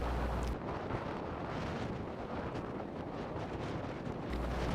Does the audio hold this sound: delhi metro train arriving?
no